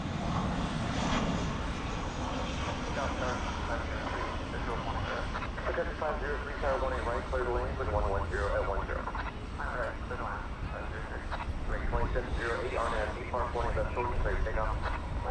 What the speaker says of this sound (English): American 883 from Jackson, Mississippi is an Airbus A319 about to enter our